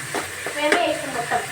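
Food being stirred in a cooking pan, with a few quick scraping strokes over a light sizzle, close and brief.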